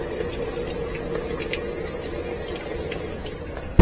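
A GE washing machine under repair fills with water, a steady close-up rushing hiss and hum from the inlet valve running continuously, ending with a sharp clunk.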